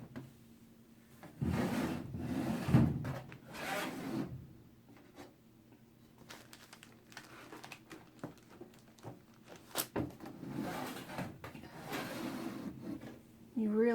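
A wooden drawer in a craft room slides open and shut as stationery is put away, giving two bursts of rubbing, scraping movement close by with a person talking over and between them.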